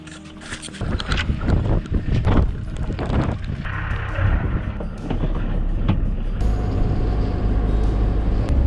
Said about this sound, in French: là c'est la tempête, on avait un spot super et c'est la tempête